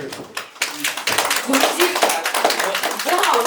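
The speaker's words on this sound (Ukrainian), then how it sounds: "Гучніші оплески" Audience clapping at a regional writers' union anniversary gathering, building in density as a voice talks over it, with the clapping rising toward the end.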